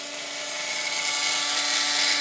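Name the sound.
CNC machine cutting UHMW plastic with a sharpened bit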